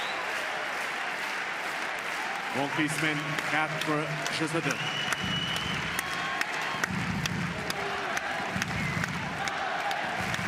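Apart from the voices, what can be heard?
tennis crowd applauding and cheering at Roland-Garros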